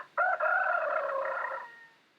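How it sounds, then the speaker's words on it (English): A rooster crows once, loud and close, a long drawn-out call in the Japanese countryside just after sunrise, with no voices around it. "The Yokobori family feeds their flock of chickens"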